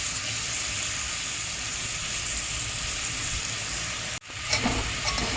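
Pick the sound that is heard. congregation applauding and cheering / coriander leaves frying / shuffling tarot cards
coriander leaves frying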